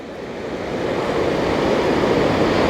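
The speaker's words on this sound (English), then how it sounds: "Oh, waves crashing down on the bottom" Ocean surf at Indian Beach crashes far below a hiking trail, a loud broad roar that swells and holds steady, edged with some wind noise and no voices.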